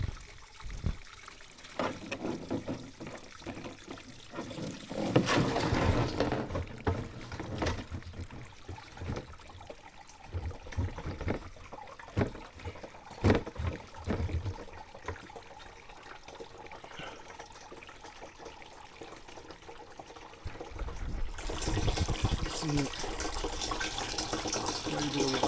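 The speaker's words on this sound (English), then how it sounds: "Quite a bit of water flow to be able to fill up fairly quick." Flowing stream water pours into a can set under a small drop in a forest, a steady splashing trickle that swells and fades, rushing louder toward the end, with no talking.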